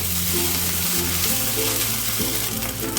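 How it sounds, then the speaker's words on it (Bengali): Ginger paste frying in oil with browned onions, a dense steady sizzle with light stirring, close and loud, without speech. "পেঁয়াজটাকে আমি একটুখানি বাদামি করে ভেজে নিলাম নিয়ে এবার একটু দিয়ে দিলাম আদা বাটা"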